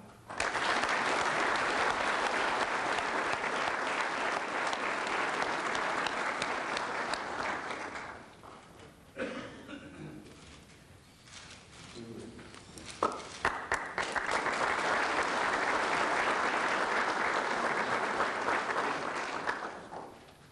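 Warm audience applause at an apprentice medal ceremony in Østjylland, loud steady clapping that fades into a quieter gap with a few scattered claps and shuffling, then swells again into full applause.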